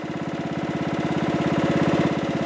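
A chainsaw engine on a Logosol Timberjig chainsaw mill idles with a steady, rapid putter, running close by without any other sound.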